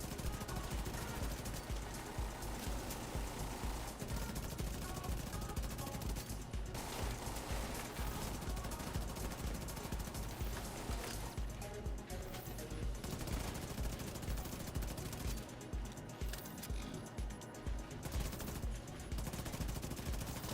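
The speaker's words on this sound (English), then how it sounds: "Random assault rifle." Assault rifles fire in The Division 2, with dense, continuous bursts of automatic gunfire layered over a busy combat din, loud and sustained throughout.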